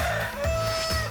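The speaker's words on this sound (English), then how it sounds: "You can hear the rooster crowing down in Charleston" A rooster crows once in Charleston, South Carolina, a short, strained call heard up close.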